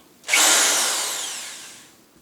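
A power drill spins up and bores into wood while building a cigar box guitar, one loud continuous whine that slowly fades out over about two seconds.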